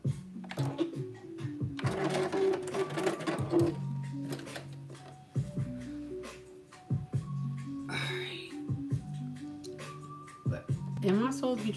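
A sewing machine stitches in short, uneven bursts with starts and stops, its motor whine rising and falling while a person talks over it.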